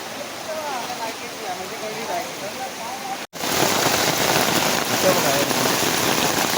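Heavy monsoon rain in Konkan pours down in a dense, steady hiss that grows louder partway through, with faint voices underneath at first.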